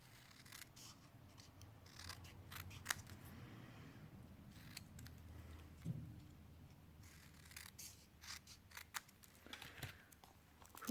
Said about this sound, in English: I just find it easier with scissors